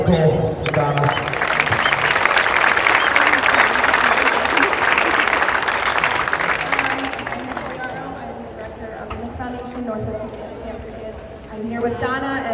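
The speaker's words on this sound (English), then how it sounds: "big round of applause for Nicole and Donna" A crowd at a firefighters association charity dodgeball event bursts into loud, sustained applause mixed with cheering and crowd noise, then it gradually subsides into background chatter.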